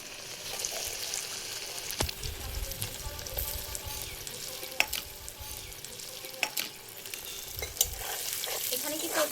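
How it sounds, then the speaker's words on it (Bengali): Potatoes fry in oil left over from frying fish, giving a steady close sizzle with sharp crackles and occasional clicks of a utensil against the pan. "আমি এখন আলুটা ভেজে নেব"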